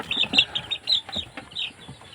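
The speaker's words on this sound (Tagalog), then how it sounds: "Napakalaki mga week old chick." Week-old chicks peeping close by in quick, high, repeated chirps, several birds calling over one another without pause.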